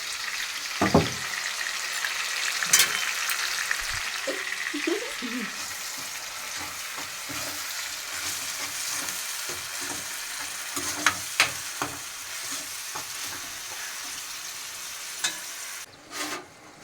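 Onion paste frying in a pan for a fish curry, a low steady sizzle with occasional stirring clinks and scrapes, moderately quiet and without talk.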